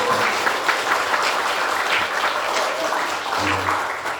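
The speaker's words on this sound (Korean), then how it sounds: "박수 한번 보내주세요" An indoor gathering applauds a welcomed guest pianist, a fairly loud, continuous round of clapping from a modest crowd with a few voices murmuring underneath.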